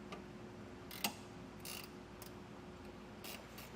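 A ratchet tightens the bracket hardware on a Westin HDX grille guard with punch plate fitted to a 2022 Chevrolet, giving several short bursts of quick clicking spaced across a few seconds over a low steady background hum.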